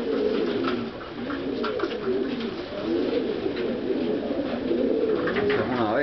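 Pigeons cooing steadily in a loft, their low murmuring calls layered and continuous throughout, fairly close and moderately loud.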